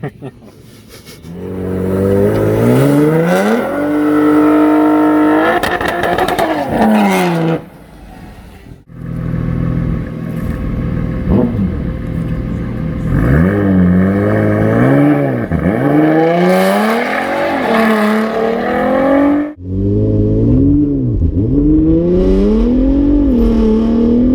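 A car launches hard at a private race track, engine revving loudly through repeated rising and falling gear sweeps with spinning wheels, close and dominant, a brief lift midway, passenger talk faint beneath.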